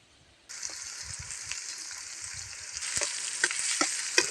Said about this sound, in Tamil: வெங்காயம் நல்லா செவக்க வணக்கணும்